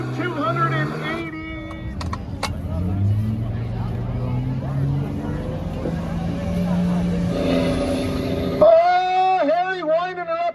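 Truck or tractor engine straining under heavy load at a truck and tractor pull at Carp Fair, a loud sustained growl rising in pitch, with crowd noise and a commentator talking throughout.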